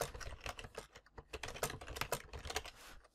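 Rapid clicking of keys on a computer keyboard as text is typed and edited, an irregular run of close, fairly quiet taps with short pauses and no voices.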